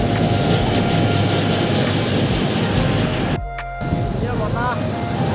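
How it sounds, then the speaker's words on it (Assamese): A ship's engine churns steadily on a river, a loud continuous mechanical and water rumble that briefly dips before resuming, with voices mixed in. "জাহাজখন ষ্টাৰ্ট দিলে ইয়াৰ পৰা যাওঁ"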